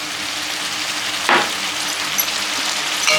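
Tomato paste fries with ginger and garlic in a pan, a steady close hiss of sizzling oil with one brief louder crackle as it is stirred, and no speech.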